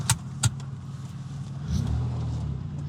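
A modified GMC Typhoon's engine runs while driving, starting as a low steady rumble after two sharp clicks, then swelling into a louder, deeper throttle surge for the remaining seconds.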